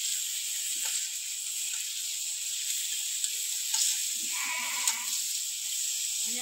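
New potatoes frying in a pan with salt and turmeric for duck egg curry, a steady, soft hiss of sizzling oil with a few faint crackles and a brief background bleat.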